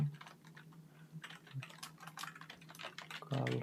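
Rapid clicking of keys on a computer keyboard, quiet and close, with an irregular run of keystrokes and a slightly louder clatter at the end.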